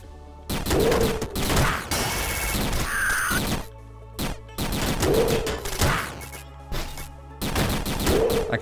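Continuous shooting in the video game Downwell comes as rapid bursts of sharp gunfire blasts with crashing hits, repeating in clusters over a low steady hum.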